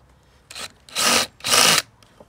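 Three short grinding bursts as a drill countersinks holes in a wooden caravan door frame, the last two longer and louder, with brief quiet gaps between them.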